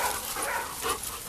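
Dogs out on a trail during off-leash recall training make faint whimpering and yipping sounds in short bursts over outdoor background noise, with no talking.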